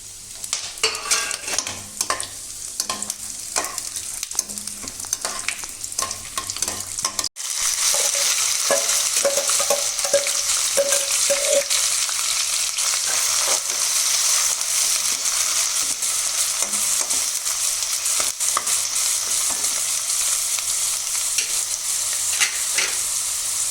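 Bay leaves, cardamom, cloves, dried chilli and cumin spit and sizzle in hot oil in a kadai. Soft clattering comes first, then a sudden loud, sustained sizzle with stirring scrapes running on to the end.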